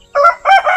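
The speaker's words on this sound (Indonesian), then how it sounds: "itu ayamnya sudah berkeliaran di dalam kandang ini" Chickens in a backyard coop give two short, loud, close calls in quick succession.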